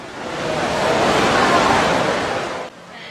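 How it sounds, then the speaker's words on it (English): A loud water fountain in a mall food court pours a dense, steady wash of splashing water, close and continuous, before the sound drops away abruptly near the end. "There's a water fountain behind him and it's pretty loud"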